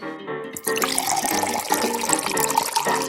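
Water pours into a drink made with a bit of cotton candy, a steady splashing trickle that starts abruptly after a brief moment of music-like tones and keeps going, close and fairly loud.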